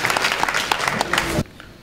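Audience applause for Madame Claire Ayemona, president of the Regard d'Amour foundation, at its 20th anniversary ceremony in Benin: a dense burst of clapping that stops abruptly, leaving quiet room tone.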